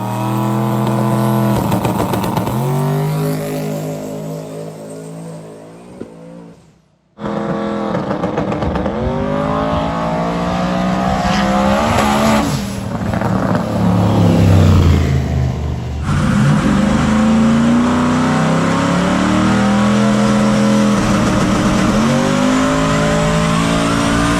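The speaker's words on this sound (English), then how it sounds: "That power comes in right there and just blows the tire off." A No Prep 4x4 NASCAR race truck roars loudly at full throttle, engine revving hard as the tire spins, cutting out briefly before blasting back up and holding a sustained, aggressive howl close by.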